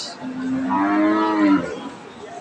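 An eight-month pregnant cow at a cattle market gives a single loud, drawn-out moo lasting over a second, close by.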